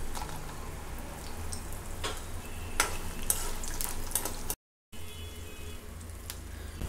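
Chana dal, urad dal, peanuts, dried red chillies and cashews sputter in hot oil as a tempering for sorrel-leaf rice, with a soft steady sizzle, scattered pops and spoon-stirring clicks, briefly cut to silence partway.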